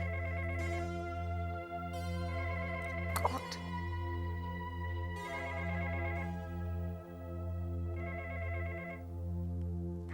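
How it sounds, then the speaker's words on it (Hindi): A mobile phone rings indoors with a repeating electronic melody in regular bursts over a steady low hum, fairly quiet, with a brief sharp knock midway and a single word spoken. "फोन बज रहा है, देखो कौन है"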